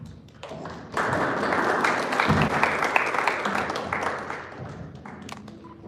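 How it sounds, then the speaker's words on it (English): Audience applause at a Toastmasters speech marathon meeting: after a short gap, a full room breaks into sustained, even clapping that holds steady for several seconds before thinning out near the end. "round of applause, please"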